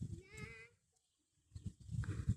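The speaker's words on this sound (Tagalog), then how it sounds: "Ayan, mga kambing." Goats at a farm give one wavering, nasal bleat early on, fairly faint, followed by silence and then a person talking nearby.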